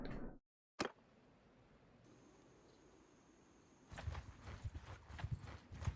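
Horse hooves clip-clop in the Mount & Blade Empire sandbox campaign: after a quiet stretch with a single sharp click, a steady, fairly close rhythmic trot of hoofbeats starts partway through and continues to the end.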